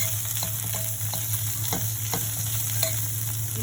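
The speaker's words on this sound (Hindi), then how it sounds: "ये आधा चम्मच जीरा डाल रही हूँ।" Half a spoon of cumin seeds hits hot oil in a pan with a loud, continuous crackling sizzle. Scattered spoon taps and scrapes punctuate it, and no one speaks.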